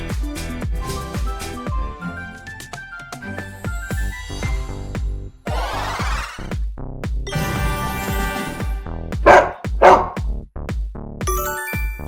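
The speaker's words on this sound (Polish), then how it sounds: "To jest pies!" A dog gives a couple of short, sharp barks over a lively, plucky background tune that plays throughout.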